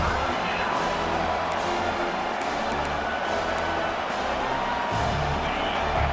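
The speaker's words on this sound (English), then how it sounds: "this crowd coming to life here, trying to help the defense get a stop" Large football stadium crowd at a Texas vs Georgia game, a rumbling wall of cheering that swells and pulses with scattered whoops and thumps, loud and sustained under an announcer's commentary.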